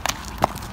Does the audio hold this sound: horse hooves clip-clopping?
yes